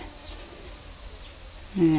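Crickets on a Thai cricket farm, densely stocked in a rearing pond, keep up a steady, loud, high-pitched chirping drone from start to finish, and a brief low sound comes in near the end.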